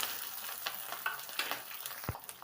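Chopped onions and chillies dropped into hot tempering oil with cumin and curry leaves, crackling in a steady close sizzle with small pops and a few stirring scrapes, no talk.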